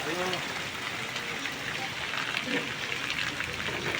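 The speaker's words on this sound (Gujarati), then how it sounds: "મોટે મોટે સાથે મિત્રો વરસાદ દેવા માંડ્યો છે" Heavy rain pouring down in a village, a dense, continuous hiss of drops on surfaces close by, with a voice speaking over it.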